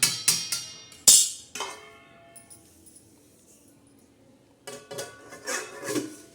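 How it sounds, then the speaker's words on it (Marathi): A metal lid is set over a pot of jaggery and semolina mixture, giving several sharp clanks and a ringing scrape, followed by quiet and then a few more soft knocks and rustles. "आता हे मिश्रण आपण झाकण ठेवू मुरायला मस्त असं मुरायला ठेवूया"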